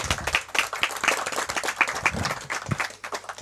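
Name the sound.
audience applause at a poetry slam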